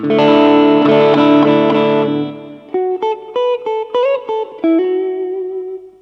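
Overdriven electric guitar through a small beginner practice amp with plate reverb: a loud sustained distorted chord rings out, then a run of separate picked notes with short gaps and a final held note fading out.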